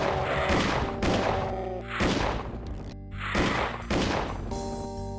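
Repeated gunfire bursts from Doom 2 on the Sleepwalking Map 1 level, loud and close, recurring roughly every second over game music and booms.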